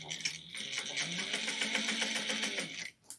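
A sewing machine runs steadily for about three seconds, back stitching a seam on a simple fabric pouch, its rapid needle chatter close and continuous before stopping abruptly.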